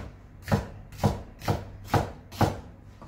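A kitchen knife cuts homemade bell pepper into cubes on a board: five evenly spaced, crisp chops land about every half second, close and clear with no talking.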